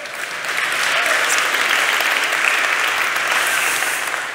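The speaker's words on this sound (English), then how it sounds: "you can clap for that if you want to" Audience at a tech talk on recreating slow, loud 1980s loading screens with the modern web breaks into clapping, a full round that swells in, holds steady and fades slightly at the end.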